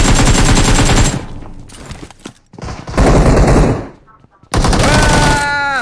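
Rapid video-game gunfire, including shotgun blasts, in loud sustained bursts with short gaps between them, with voices talking over it.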